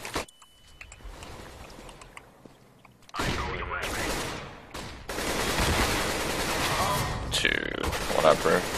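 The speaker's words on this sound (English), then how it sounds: "I'm throwing a flashbang." In a competitive CS:GO match on the Train map, a flashbang bursts and gunfire crackles in loud bursts after a quieter stretch, with players talking over the action.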